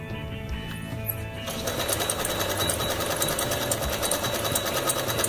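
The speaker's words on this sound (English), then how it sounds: "So we went from straight stitch to zigzag." A Pfaff 230 sewing machine runs a zigzag stitch, starting quietly and then settling into a loud, steady, rapid mechanical chatter close up, with no voices.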